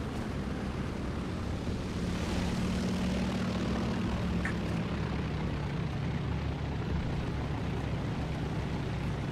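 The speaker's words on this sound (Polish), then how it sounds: "Samolot się na mnie uciął z rakietami." A loud, continuous propeller aircraft engine drones close by in War Thunder, attacking during a 1942 Mozdok simulator battle, with a roaring, rumbling texture and a brief whine rising and falling under it.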